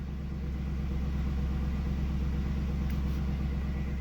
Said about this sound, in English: start the vehicle till the engine builds oil pressure and circulates the engine oil